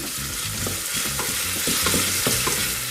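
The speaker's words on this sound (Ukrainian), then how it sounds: "В процесі смаження додаю дрібку солі, тоді цибуля швидше обсмажиться, пустить сік та зм'якне." Chopped onion with a pinch of salt sizzles steadily in a pan while being stirred, a close, continuous frying hiss with soft scraping strokes of a utensil and no talk.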